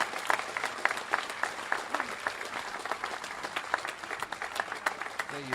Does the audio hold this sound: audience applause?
yes